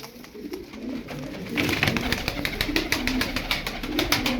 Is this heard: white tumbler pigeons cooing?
yes